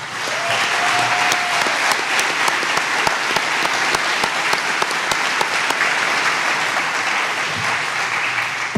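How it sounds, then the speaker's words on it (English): A room of people applauding at a Phoenix Suns press conference, a sustained even wash of clapping with a few sharp individual claps standing out, steady and fairly loud for several seconds. "give these guys an acknowledgement and a round of applause"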